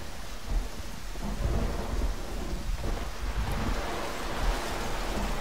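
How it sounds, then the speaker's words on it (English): Rolling thunder from a lightning strike on top of a tower in a video game level, a low continuous rumble with rain-like hiss that swells and holds steady throughout. "There's the lightning strike on the top of the tower."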